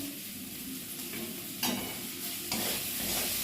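Tomato and tadka spices sizzle steadily in a hot pan, with close, continuous frying noise and a few sharper bursts as the mixture is stirred.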